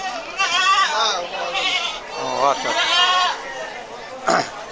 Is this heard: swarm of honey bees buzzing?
no